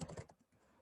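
A few quick keystrokes on a computer keyboard while typing in a Stata do-file editor, soft and brief, close by and with no speech.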